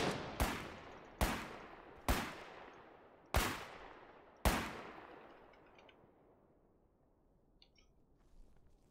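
Gunfire in the video game Foxhole: five sharp, loud shots at irregular intervals over about five seconds, each trailing into a long decaying echo, then fading to a quiet tail with no talking.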